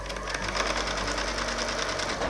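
A sewing machine stitches a quilt seam joining fabric strips, a steady close rapid whirring and knocking that runs without a break.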